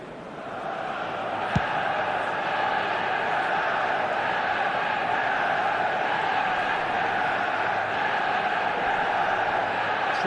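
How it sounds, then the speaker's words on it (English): Stadium crowd in an eFootball match swells in steady, broad applause and murmur after a near-miss shot, a continuous wash of noise with one sharp knock early on. "at least the crowd are appreciative of his efforts"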